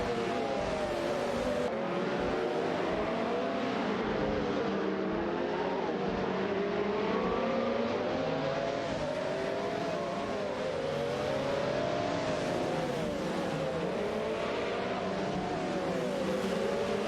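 Ferrari race car engines in an AI racing video game roar steadily throughout, with rising and falling engine pitches from several cars overlapping into a dense, continuous drone.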